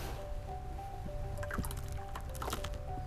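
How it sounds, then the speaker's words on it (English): Water squeezes and drips out of soaked fiberglass insulation, with wet squelching and small gurgling splashes in a few irregular bursts over a steady low background hum. "see how the water's squeezing out?"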